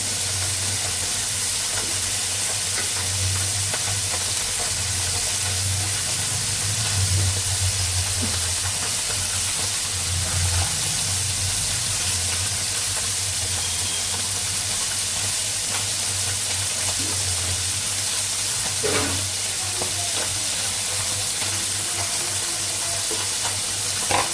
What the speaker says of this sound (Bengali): সব একটু ভেজে নিচ্ছি আজকে কাঁচা দিয়ে রান্না করবো না